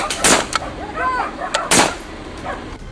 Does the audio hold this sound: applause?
no